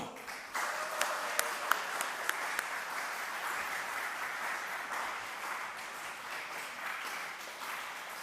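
Church congregation applauding as two deacons are called forward after a short-term mission to Japan, steady moderate clapping starting abruptly and holding evenly, slightly distant.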